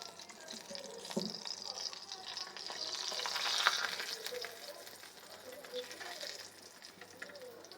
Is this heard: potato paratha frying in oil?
yes